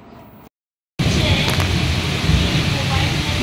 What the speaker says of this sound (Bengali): দেখো বন্ধুরা কত বৃষ্টি হচ্ছে আর প্রচণ্ড মেঘ ডাকছে আমাদের এখানে।